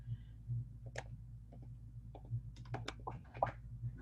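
Typing on a computer keyboard during a live coding session, a sparse run of quiet, irregular key clicks and taps close by with no talking.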